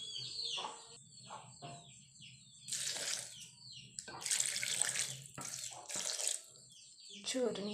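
Water poured from a tap or jug into a grinder jar for making soybean gravy paste, splashing in a few bursts with pauses between, close by, with faint background bird calls.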